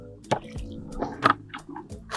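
Water poured into the soil around a newly planted bare root tree: several wet splashes and gurgling squelches in irregular bursts, close by and moderately loud, with no speech.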